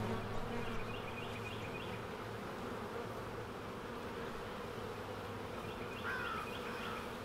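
Honey bees buzz at a hive during an oxalic acid vapour treatment for varroa mites, making a steady, close droning hum with a few higher buzzes of single bees flying past, and no talking.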